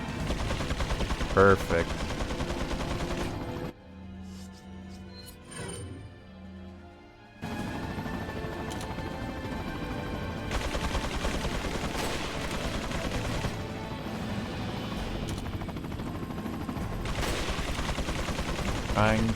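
Enemy gunners in the Resident Evil 4 video game fire in rapid bursts, a dense rattle of gunshots that drops out briefly in the middle, with a voice speaking faintly underneath.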